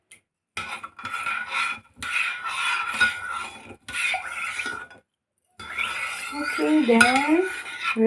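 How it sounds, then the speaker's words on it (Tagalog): Sticky rice mixture being stirred with salt in a pot for bibingkang malagkit: a spoon scrapes and clinks steadily against the pot in close, continuous strokes with brief pauses. "Then, haluin ulit para kumalat yung asin na linagay ko."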